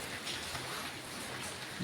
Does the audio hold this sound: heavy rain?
yes